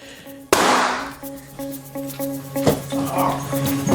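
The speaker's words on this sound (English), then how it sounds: "A split-second mistake and a firearm discharges accidentally." A firearm discharging accidentally, one sharp close gunshot followed by a lingering echo and murmuring background noise.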